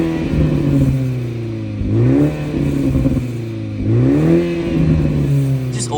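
A BMW 330i with the B46 engine revs repeatedly, its engine and exhaust note rising and falling in steady, close-up, sustained pulls, with the pitch climbing during each rev.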